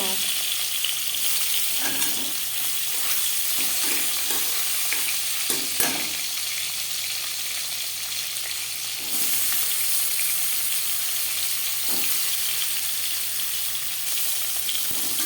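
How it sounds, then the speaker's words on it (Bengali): Rohu fish pieces rubbed with salt and turmeric fry in hot refined oil, giving a steady, loud, close sizzle with occasional pops and spatters throughout, and no voices. "মাছ মাছ এক পিস ভাজা হয়ে গেছে অপর পিস উল্টে দেবো"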